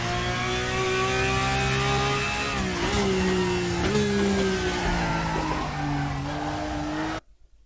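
A race car in a racing sim braking into turn 3 with a loud, steady engine note whose pitch falls in steps as the gears drop, and the sound cuts off abruptly at the end.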